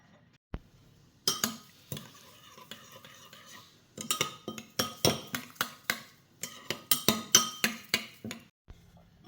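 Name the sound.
stirring chia seeds in water with a spoon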